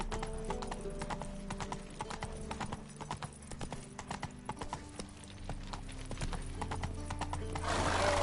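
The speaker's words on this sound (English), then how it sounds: "All right, Run, Roach" Galloping horse in The Witcher 3, with steady clip-clop hoofbeats close by and occasional whinnies over music and ambient game sound.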